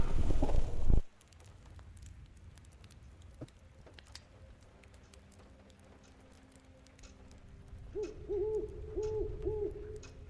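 An owl hoots in a spooky indie video game, a repeated low wavering hoot arriving after a quiet stretch of faint ambient crackle, preceded by a brief loud thump at the start.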